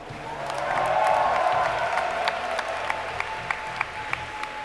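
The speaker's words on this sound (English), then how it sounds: "Give it up for, give it up for MarineKing Prime" A crowd at a StarCraft II finals match applauding and cheering, swelling then settling into scattered clapping with a few sharp claps standing out near the end.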